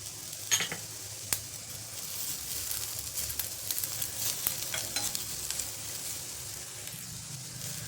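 Curry leaves drop into hot oil with dal frying for vada pav, giving a steady close sizzle broken by sharp crackles and stirring scrapes in the pan.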